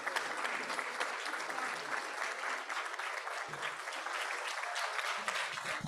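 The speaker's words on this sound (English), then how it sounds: "Please, everybody stand and give them applause." An audience stands to applaud Bala Vihar graduates at a Chinmaya Mission Chicago ceremony, with soft, continuous clapping from a sizable crowd heard at a distance and a faint voice now and then.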